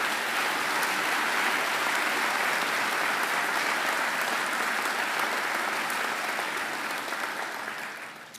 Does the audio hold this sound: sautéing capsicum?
no